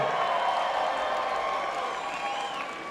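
Wrestling or cage-fight crowd in an arena, a steady roar of cheering and scattered applause that holds loud throughout and eases slightly near the end.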